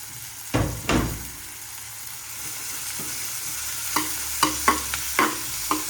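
Onions frying in oil for mutton curry, a steady sizzle with a few louder scraping stirs near the start and a run of sharper clacks of the spoon against the pan toward the end.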